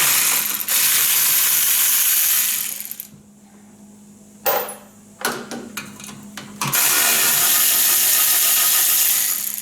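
A hand ratchet loosens bolts holding the fork bezel on a 2009 Harley-Davidson with bent forks: two long, loud, close bursts of rapid clicking, separated by a quieter gap with a few sharp metallic clicks.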